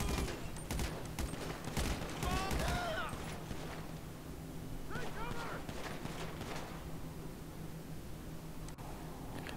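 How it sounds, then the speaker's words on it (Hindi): Commandos firing guns in the video game GTA, a dense crackle of rapid shots clustered at the start and again midway, under a continuous noisy game backdrop. "और ये देखो गोली, कितने गोली मार रहे हैं।"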